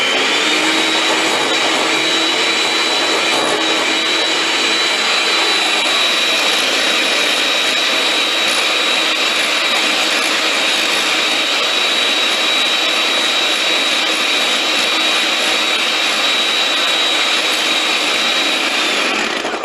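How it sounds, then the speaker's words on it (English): An electric hand mixer whirs continuously at high speed while beating a mixture, a loud, steady, slightly rasping drone with a faint whine that holds unbroken throughout, with no talking. "just do it with the electric beater"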